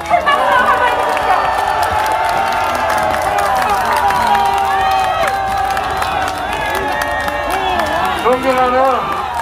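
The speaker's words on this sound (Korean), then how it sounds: "여러분 큰 박수로 환영해주세요" Applause and cheering from a crowd at an outdoor political rally in Gumi, South Korea, welcoming a party leader; a dense, loud, continuous roar of clapping and shouts with voices on top.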